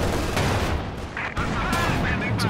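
Triple light machine gun fire in Company of Heroes 2, loud rattling bursts mixed with other battle noise over a dense, continuous din, with a commentator's voice partly heard over it.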